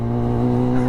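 Motorbike engine running close by, a steady loud droning hum held for under a second as the bike is brought in, no talking.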